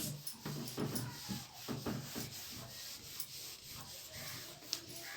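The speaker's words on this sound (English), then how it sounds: "I'm rubbing this one." Rubbing strokes on an object, a rough scratchy friction sound repeating in short bursts at first, then a steadier continuous rub, close and moderately loud with no voices.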